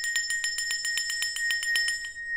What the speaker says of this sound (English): I am going to ring this bell because I want to clear the energy